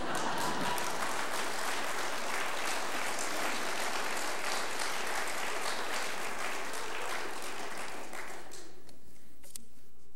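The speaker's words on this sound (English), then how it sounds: "Thank you for that applause" An audience applauds during a university president's mid-year address, a sustained full-room ovation lasting around eight seconds before it tapers off quickly into near quiet.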